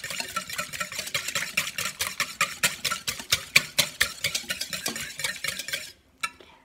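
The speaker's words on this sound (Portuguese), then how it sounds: "Acrescento sal. Acrescento leite. E misturo mais um pouco." Egg, salt and milk waffle batter being stirred, a quick steady run of close utensil scrapes and taps against a bowl, then a brief pause and one last knock.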